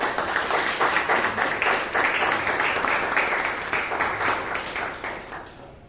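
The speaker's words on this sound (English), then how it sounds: "Please give a big round of applause for Jain Ramesh." Members at a Toastmasters club meeting in Bangalore give sustained applause, a dense roomful of clapping that holds steady and then fades out at the end.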